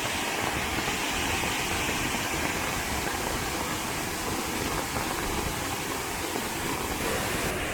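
Roaring flow of a village waterfall swollen by heavy rain, a constant, broadband rush of falling water, loud and close, with no let-up and no voices.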